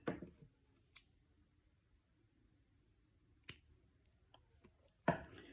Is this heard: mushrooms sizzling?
no